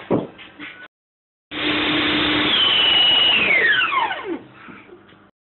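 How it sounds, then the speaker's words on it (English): A blender grinds bread, a loud close motor roar that starts after a short pause, holds steady, then drops in pitch as it winds down, with brief clattering before and after. "Just carry on blending because it will go through."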